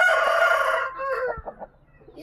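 A rural fighting rooster, a native country breed, finishes a loud, close crow that trails off into a few short clucks at the end.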